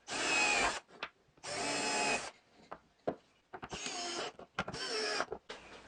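A drill boring pilot holes into plywood, with a spacer set to keep the bit from breaking through, whines in four short close bursts separated by brief pauses and small clicks.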